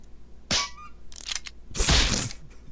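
Gunshot in the video game Henry Stickmin Collection, a sharp cartoonish crack followed by brief game effects and a louder burst of noise, close and punchy.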